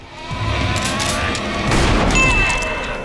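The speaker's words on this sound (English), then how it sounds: "Just shoot him, man." A single loud gunshot in a tense zombie-film scene, a sharp booming blast that rings out and decays over a second or so.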